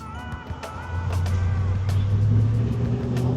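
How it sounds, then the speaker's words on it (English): V8-engined vehicle climbing a hill on a mountain road: a low, steady engine drone that swells gradually, heard from inside the cab, with faint intermittent clicks and rattles. "I can hear my V8 roll up the hill"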